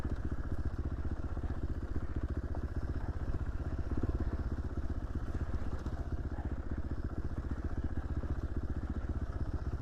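A 450 dirt bike ridden on single track in Idaho at about 5,000 feet. The engine throbs steadily and fairly faintly, with a clattering rhythm and no talk.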